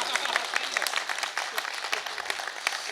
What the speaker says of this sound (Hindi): तो सखा फाउंडेशन के लिए एक बार तालियां बजाइए